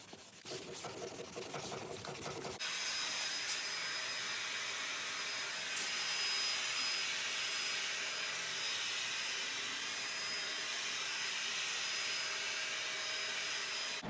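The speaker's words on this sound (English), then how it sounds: "I'm just going to take a little bit of steel wool and just scrape lightly along all the edges that I'm going to use" Steel wool scrapes lightly along the edges of a DIY utility trailer camper before sealing, making a steady, close, continuous rasping hiss after a short burst of rougher scratching at the start.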